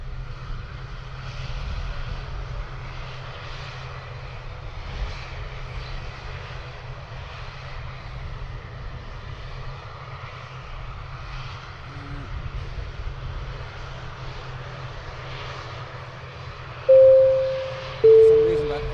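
An ATR turboprop drones at Dublin Airport, a steady low engine hum at moderate distance, with two short sharp electronic tones near the end.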